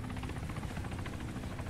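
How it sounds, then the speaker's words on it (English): An enemy helicopter flies over in the military video game Arma 3, a loud, steady rotor chop and engine drone that fills the whole moment without pause or speech. "Oh my god, enemy helicopter."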